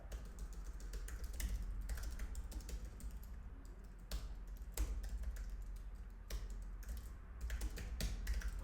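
Someone types a git add command on a computer keyboard: rapid, steady, close-up keystroke clicks that run continuously with no voices.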